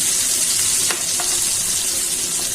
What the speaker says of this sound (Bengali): সুন্দর করে ভাজা হয়ে যায়।